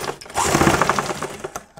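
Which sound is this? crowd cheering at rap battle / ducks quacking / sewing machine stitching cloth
sewing machine stitching cloth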